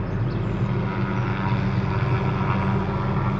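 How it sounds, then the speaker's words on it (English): A helicopter flying overhead, cutting along power lines with a blade: a steady, droning engine roar fills the air, constant and fairly loud, with a low rumbling hum and no talking. "Got a helicopter out here"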